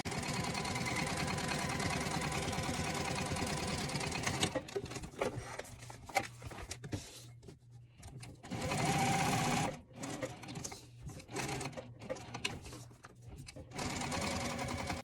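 A sewing machine stitches a fabric gift bag using heavy thread, a 4.5 stitch length and a size 18 needle. It runs loud and steady, pauses, then comes back in short bursts, and a voice talks during the gaps.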